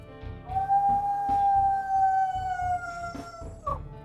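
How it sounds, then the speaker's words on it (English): A single long, steady wolf howl from the video game WolfQuest Wayfinders, clear and prominent over a soft rhythmic background pulse, sliding slightly in pitch and ending with a short rising note. "that is, I'm pretty sure, an older howl"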